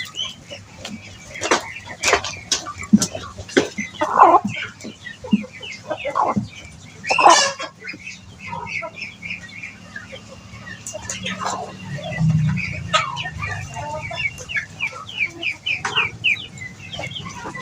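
Free-range village chickens clucking at a small farm also raising Muscovy ducks, with frequent close clucks and calls scattered throughout while people talk nearby.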